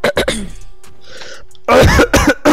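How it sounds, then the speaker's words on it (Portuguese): A man coughs sharply several times, then after a short pause comes a louder burst of harsh, close coughing. "tu para de tossir mais que eu"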